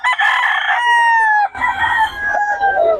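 Chickens and a rooster at a market in Bocaue, with long, loud crowing calls carrying over clucking fowl and a busy low background hubbub.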